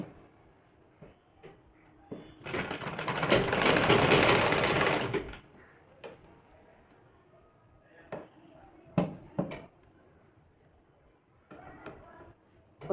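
A sewing machine runs a single burst of stitching on a kurti collar, loud and close for about three seconds, followed by quieter handling clicks and taps of the fabric.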